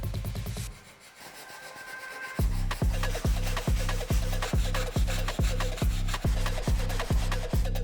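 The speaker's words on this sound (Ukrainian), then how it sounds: "Тепер можемо шкурити і цю паличку." Brisk, even strokes of sandpaper on a bamboo fishing-rod stick repeat close up in a steady rhythm, after a short quieter pause at the start.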